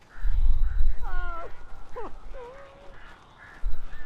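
Crows caw in the video game Alan Wake, several harsh, drawn-out calls in quick succession over a low rumbling background, with a brief muffled voice near the start.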